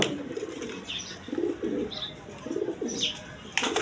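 Pigeons kept for sale, a mixed pair of male and female, coo in soft repeated bursts at close range, with brief higher chirps and a rustle near the end.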